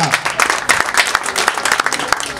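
Crowd applause for a gold medalist at a Senegalese shooting competition in Thiès, loud, dense clapping with sharp individual claps standing out, and some voices mixed in.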